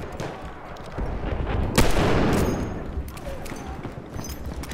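Gunfire from the Battlefield 1 multiplayer battle, with a sharp loud shot near the two-second mark standing out over continuous dense rattling fire and explosive rumble throughout.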